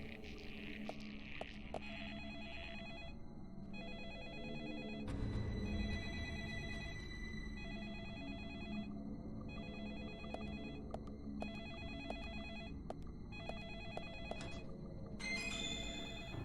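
A telephone rings repeatedly in the horror video game Deadly Premonition, its electronic ring tones sounding in a steady pattern over a continuous low game soundtrack, with no talking.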